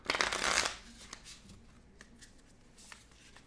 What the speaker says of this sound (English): I shuffled the hell out of this deck too.